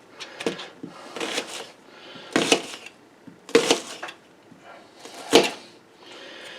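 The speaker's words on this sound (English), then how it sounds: "There's my onion. I just cut mine in half." A halved onion being cut up with a knife while making beef and noodles: a handful of sharp, irregular knocking cuts spaced a second or two apart, close by, with quiet pauses between and no speech.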